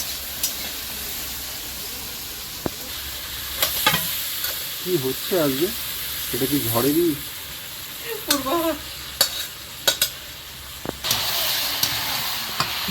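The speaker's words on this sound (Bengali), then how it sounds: "এদিকে লবণ হলুদ দিয়ে চিংড়িটা ভেজে নিলাম এবার এগুলো ঝিঙের মধ্যে দিয়ে দেবো" Shrimp fried with salt and turmeric sizzles steadily in a pan beside ridge gourd, with occasional scraping stirs, while someone talks briefly over the frying.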